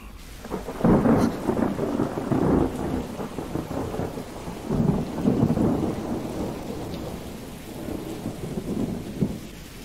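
Heavy rain pours steadily while rolls of thunder swell and fade several times, loud and close, with no voices.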